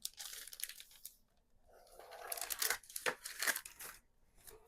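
Sheets of paper are folded in half, making short bursts of crinkling and creasing rustle between quiet pauses, close and fairly soft.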